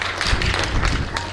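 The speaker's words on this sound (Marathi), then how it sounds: "तर जोरदार टाळ्या वाजवा" Audience clapping at a Marathi stage event as guests are welcomed to the stage, a dense, steady patter of hands throughout, fairly close and loud.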